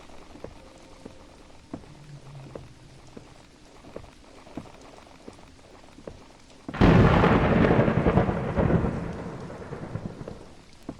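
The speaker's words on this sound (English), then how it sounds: "Couldn't hear you over the thunder." A sudden loud crack and roll of thunder in a horror video game breaks into heavy rain after a stretch of quiet ticking ambience, then fades slowly over several seconds.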